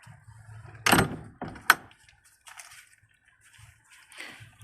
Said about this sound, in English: let me close the door so y'all can see